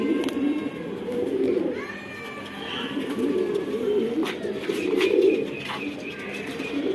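Several pigeons kept together coo in soft, low, rolling calls that overlap continuously at close range, with a few faint chirps above them.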